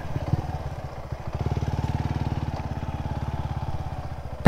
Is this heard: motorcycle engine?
yes